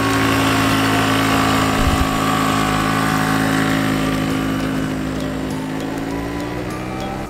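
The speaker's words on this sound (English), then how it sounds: "All right, Otter, you get a ride home on the moped." A moped engine runs loudly nearby, buzzing and revving briefly, then gradually settling and fading a little as it idles on.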